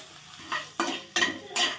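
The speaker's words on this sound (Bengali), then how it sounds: "প্রথমেই কড়াইতে কিন্তু একটুখানি ভেজে নেব" Whole spices fry in a wok, with several sharp stirring scrapes over a soft, close sizzle and no voices.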